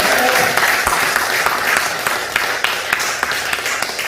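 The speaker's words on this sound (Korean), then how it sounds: "우리 박수 좀 칩시다" Church congregation breaking into sustained applause, dense steady clapping from many hands filling the room throughout, with a few sharper claps standing out near the front.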